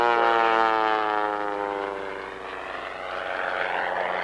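A 300-horsepower aerobatic propeller airplane at an airshow dives toward the ground, its engine a loud buzzing drone that falls in pitch as it passes, then rises again.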